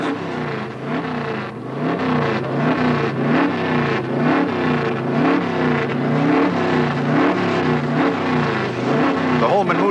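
Stock cars race at Martinsville Speedway in the 1971 Virginia 500, their engines making a continuous, loud, wavering roar that rises and falls as the pack circles the track.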